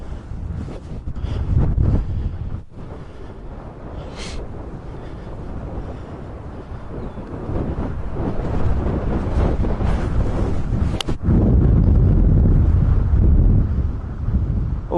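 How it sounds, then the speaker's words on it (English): Wind gusts across the microphone on a scenic golf course, producing loud, rumbling buffeting that rises and falls in surges over fifteen seconds, with no talking. "Wind's blowing towards me"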